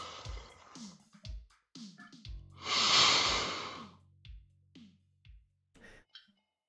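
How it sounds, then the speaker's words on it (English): Someone breathes heavily and loudly into a microphone during a ranked game stream, a rough, airy burst lasting about a second and a half, with softer scattered breaths and clicks around it. "Very nice breathing"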